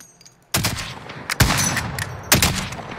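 Bursts of gunfire in the Call of Duty Warzone video game: a loud sharp report followed by two more heavy shots at intervals, with rattling echoes and a noisy battlefield bed between them.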